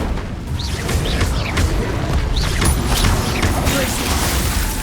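Incendio fire spell cast during combat in Hogwarts Legacy, several bursting whooshes with mechanical clatter and booms in dense, loud game audio, repeated through the clip.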